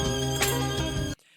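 A sped-up, pitched-up sample from J Dilla's "Last Donut of the Night" plays as a dense, bright loop, then cuts off abruptly near the end, leaving faint residue.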